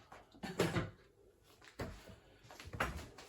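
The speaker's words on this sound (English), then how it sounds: "I'll knock all the stuff out of the cupboard and show you." Items knocked out of a kitchen cupboard make a few scattered thumps and clatters, quiet and close, in uneven bursts with pauses between them.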